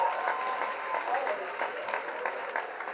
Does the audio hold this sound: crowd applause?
yes